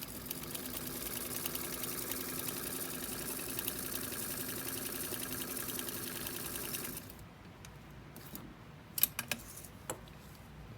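A vintage Sears Kenmore model 15812000 sewing machine stitches free-motion lines, a steady close mechanical whir running about seven seconds, then stopping, followed by a few faint clicks and taps.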